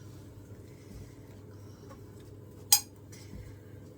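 Metal utensils scrape and clink faintly against a pot as okra soup is dished out, with one sharp, brief clink standing out over a quiet low background.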